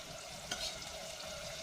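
Drumstick pods go into a pan of frying masala for a village-style aamti, giving a soft, steady sizzle with one brief clatter as they land. The sound is quiet and close, with no voices.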